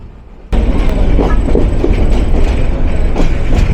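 Mohua Commuter train running from Dhaka toward Mohanganj, heard from inside the locomotive: a loud steady rumble with rhythmic wheel clatter starting abruptly and continuing without talk.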